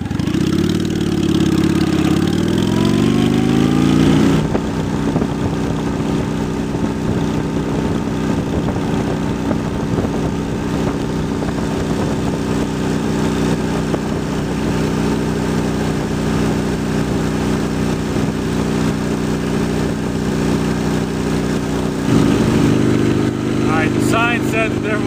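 A 2003 Honda Shadow 750 motorcycle engine rises in pitch as the bike pulls away, then settles into a loud, steady drone with wind rush while riding, swelling again near the end.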